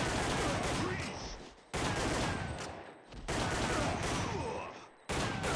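Gunfire in the PlayStation light-gun game Time Crisis: loud bursts of rapid shots come in four long volleys separated by brief gaps.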